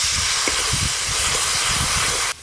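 Water splashed into ground turmeric, chili, coriander and cumin frying in a pan over a clay stove, a loud steady hiss of steam with faint low bumps, cutting off abruptly at the end.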